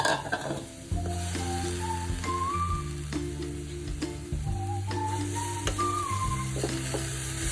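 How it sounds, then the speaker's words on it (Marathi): Dried fish (sukat) dry-roasting on a hot iron tawa gives a steady, close sizzle with soft stirring scrapes, while melodic background music plays throughout. "ती सुकट आपली तव्यामध्ये भाजून काढणार आहोत"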